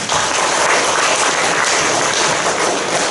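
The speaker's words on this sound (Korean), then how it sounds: "그분들을 위해서 한번 박수 한번 더 칩시다." An audience at a Korean church leaders' forum breaks into loud, sustained applause, a dense and even clapping that fills the room for a few seconds.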